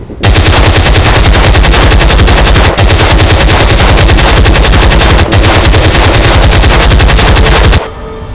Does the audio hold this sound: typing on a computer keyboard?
no